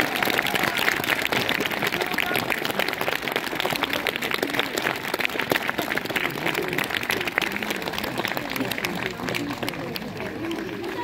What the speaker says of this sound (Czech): Takže já vás poprosím ještě jeden obrovský potlesk pro vaše děti.